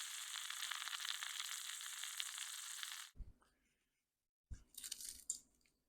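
Crisp cooked bacon is crushed and crumbled by hand: a steady dry crackling hiss gives way to two separate bursts of brittle crunching, close and fairly quiet, with no talking.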